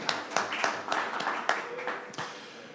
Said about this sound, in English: that was a big round of applause for the beginning